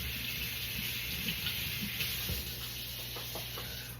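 A lemon rinsed under running tap water at a kitchen sink, a steady broadband rush of flowing water with faint rubbing and handling noises close by, no voices.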